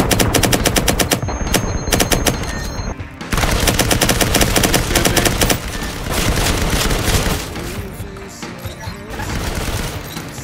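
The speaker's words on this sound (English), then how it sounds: "Keep shooting, keep shooting, keep shooting." Rapid, loud automatic gunfire from a multiplayer shooter video game, with sustained bursts and brief pauses continuing throughout and a few single heavier shots mixed in.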